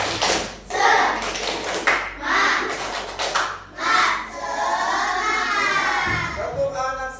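Children do a rhythmic "tepuk semangat" spirit clap in a classroom, bursts of group clapping mixed with loud chanting and shouting voices, close and lively.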